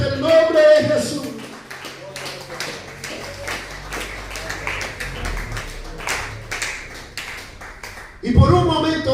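Clapping from a congregation in a church service, a run of irregular claps and taps that rise and fall, mixed with voices and music and ending in a louder swell.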